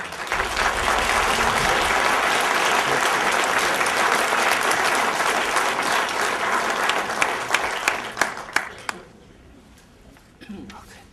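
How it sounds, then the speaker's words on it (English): Audience applause welcoming a speaker at an event, loud sustained clapping that thins into scattered claps and fades out near the end, followed by a few faint sounds. "So big smile and a big round of applause, please, for Mr. Jim Randel"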